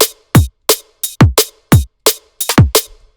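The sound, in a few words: drum and bass beat with kick and snare, no hats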